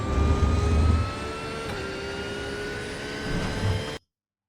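Porsche 911 R GT3 engine in iRacing at Watkins Glen, a steady high whining drone as the car accelerates, rising slightly in pitch, then cutting off abruptly.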